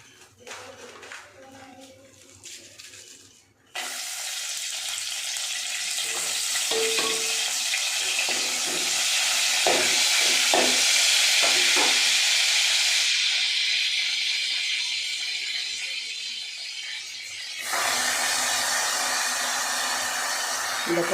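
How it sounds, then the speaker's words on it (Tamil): Coriander leaves are sautéed in hot oil, making a loud, steady hiss and sizzle that swells and holds for most of the stretch. The sizzle follows a quieter opening with light clatter, and a brief dip comes near the end. "இந்த கொத்தமல்லி இலை ரொம்ப நேரம் வதக்கணுங்க"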